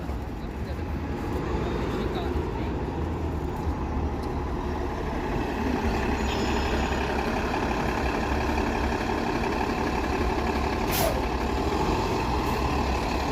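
A city bus rumbles past on a busy Toronto street, its engine steady and close amid traffic noise, with a brief hiss near the end, and people talk over it.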